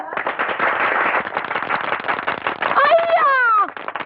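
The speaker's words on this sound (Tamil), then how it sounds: "எங்கே ஜோரா ஒரு தரம் கைதட்டுங்க" A group of children clap their hands in a dense, rapid patter of claps at an Independence Day gathering, then it trails off as brief whistling tones and a voice come in.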